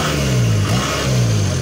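Kubota DC 70 combine harvester engine, freshly serviced, revving loud and close, with a steady droning rumble whose pitch dips and rises between throttle pushes throughout.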